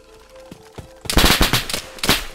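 Video game gunfire: a few quiet isolated shots, then a sudden loud close burst of rapid automatic fire with several cracking shots over about a second.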